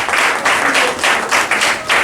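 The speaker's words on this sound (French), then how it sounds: "On applaudit." Loud applause at a doctoral thesis defense comes in rhythmic surges, a crowd clapping in unison with pulsing waves of sound, close and full.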